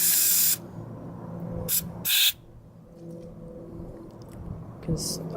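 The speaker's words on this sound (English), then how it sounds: "Spray in that hole there." Short hissing bursts of aerosol carburetor cleaner sprayed into a scooter carburetor, close up, separated by quieter stretches with a low background hum.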